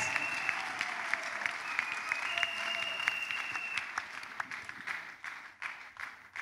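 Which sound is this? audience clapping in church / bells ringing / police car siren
audience clapping in church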